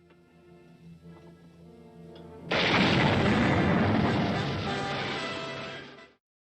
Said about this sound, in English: Here's an M9 rifle grenade being used against an American M41 Walker Bulldog, dressed up as a German tank in hell and back.